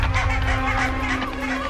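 Barnacle geese honk and call in a steady, overlapping chorus at their cliff nesting site, fairly close, with a constant low hum running underneath.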